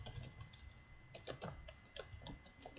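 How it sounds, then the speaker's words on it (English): Code being typed on a computer keyboard, a steady run of quick, light key clicks with irregular rhythm and no voices, fairly close but quiet. "So we're gonna type in"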